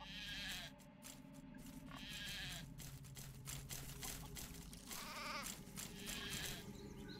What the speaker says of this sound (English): We have some sheep over here.